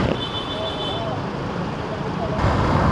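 Road traffic noise in the Philippines, heard from a motorcycle: a steady, loud roar of passing vehicles with a thin high tone early on and a louder surge near the end.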